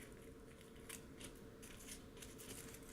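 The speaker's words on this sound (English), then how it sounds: "And we can just cut at each mark." Scissors cut through twice-folded material into strips, a faint, close, steady snipping with soft crunchy cuts over a low background hiss.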